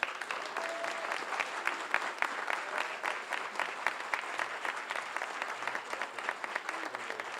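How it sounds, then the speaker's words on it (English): Sustained audience applause fills a hall at a Martin Luther King Jr. celebration event, a dense, steady wash of many hands clapping with no voices over it. "What I want you to do is give David Crabtree a round of applause."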